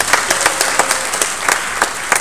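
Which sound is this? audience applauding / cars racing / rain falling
audience applauding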